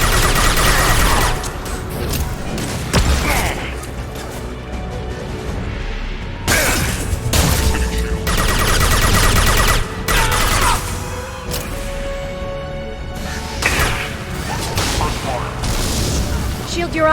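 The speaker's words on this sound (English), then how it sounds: "Watch out! Flashbangs!" Flashbangs burst amid gunfire in the Mass Effect 2 Shadow Broker DLC: loud, heavy booms and rattling shot bursts come in waves, with sharp blasts every few seconds over a constant roar of combat.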